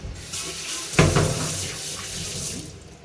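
Water gushes from a kitchen sink tap as washed food is drained, a steady close splashing rush with a brief clatter near the start.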